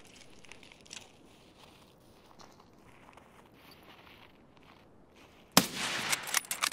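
A shooter video game stays quiet with faint steps and rustling, then a sudden loud burst of rapid gunfire breaks out near the end and keeps crackling.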